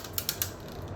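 Achilles Beyblade top snapped off its launcher with a few quick ratcheting clicks, a brief mechanical whir underneath, close and fairly quiet.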